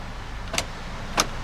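The driver-side automatic power window of a black Honda Civic FD sends out two short whirring bursts about half a second apart, close by inside a quiet car cabin.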